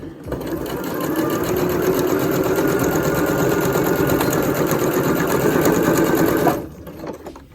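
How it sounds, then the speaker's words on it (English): A sewing machine runs steadily for several seconds, stitching closed the opening of a homemade cotton face mask, a loud continuous mechanical whir that stops abruptly near the end. "So we're just gonna go ahead and put it underneath and just sew it up."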